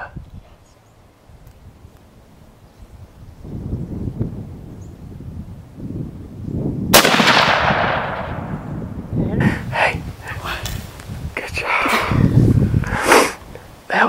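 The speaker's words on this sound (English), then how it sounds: "You wanna shoot it or not?" A single loud rifle shot fired at a deer during a hunt outdoors rings out sharply and decays, set among wind noise, rustling and voices talking nearby before and after.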